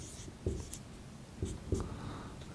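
A pen writes a math equation by hand on paper, with soft scratching strokes and a few sharper taps and scrapes against a faint background hiss.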